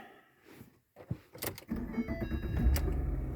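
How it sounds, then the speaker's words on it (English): A 2010 Ford Fusion engine cranks briefly after a floor shifter replacement, catches and settles into a steady idle close by. Mechanical clicks come first, and nobody speaks. "So we're gonna go ahead, crank it, run through the gears, make sure we're good to go."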